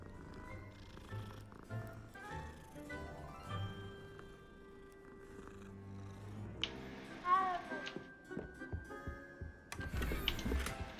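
Cat purring in the video game Hogwarts Legacy, a soft steady rumble low in the mix beneath game music and chimes, with a brighter magical sweep and a burst of noise near the end.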